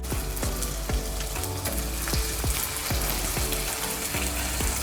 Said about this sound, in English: So just a bit of oil, and then you can start frying.